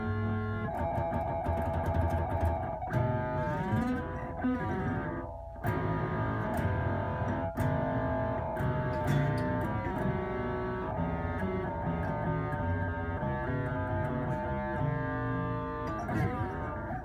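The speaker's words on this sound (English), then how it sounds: "the funnest effect, I would have to say, ring mod is a lot of fun." Electric guitar played through the ring modulator effect of a Boss MD-500 pedal, giving loud metallic, clangorous synth-like notes and chords that ring on continuously without talk.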